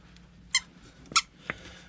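A squeaky dog toy gives two sharp, bright squeaks about half a second apart, then a softer third squeak, close up against a quiet background.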